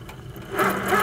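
An HQ Sweet Sixteen quilting machine stitching in cruise mode, a low motor whir that swells into a louder, busier buzz halfway through, close and steady for about a second.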